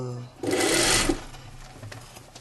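A sewing machine stitching a seam on a tunic shirt, one short burst of rapid whirring lasting under a second, close by, with quiet room noise after.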